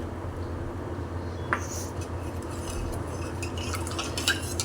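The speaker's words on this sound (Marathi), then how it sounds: "आणि दूध परत एकत्र करून घेऊया" A spoon stirs milk in a pot after cardamom and nutmeg powder are added, giving soft, close scrapes and a couple of light metallic clinks over a quiet background.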